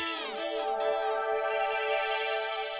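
An electronic phone ringtone plays, a bright melodic tone with a shift partway through, fairly close and with no voices.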